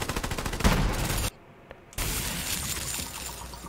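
Gunfire in the video game Borderlands 3: rapid, crackling bursts of shots, loud and close, that stop abruptly for a moment of near silence before resuming.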